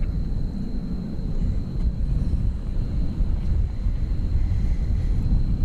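A Cathay Pacific widebody jet departing DFW Airport for Hong Kong, heard as a steady, broad distant roar mixed with wind buffeting on the microphone, holding level throughout with no talking.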